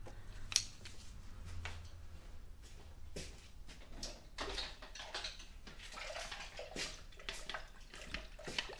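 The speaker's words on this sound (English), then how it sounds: "Getting my brushes in the water because we do want to use them a couple more times" Paint brushes are dropped and swished into a container of water after painting, giving soft splashes and knocks amid faint clattering handling sounds, fairly quiet and close, with no talking.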